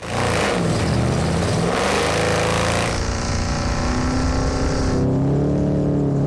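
A truck on wooden plywood wheels does burnouts, its engine revving hard and loud with a steady roar and grinding rumble that shifts in pitch partway through.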